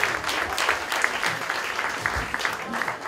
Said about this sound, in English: Huge round of applause for Sex Signals.